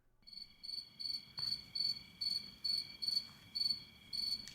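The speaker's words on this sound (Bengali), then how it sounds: "ঝিঁঝি পোকা ডাকছে" Crickets chirping at night in a quiet rural spot at dusk, a faint, steady series of rhythmic pulsing trills repeating about twice a second, alone without voices.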